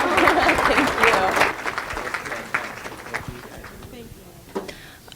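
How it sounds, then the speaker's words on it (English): Audience at an elder advocacy and law boot camp claps, dense and loud at first, then thinning out and fading over a few seconds while voices carry on over it. "Let's give them one more hand clap."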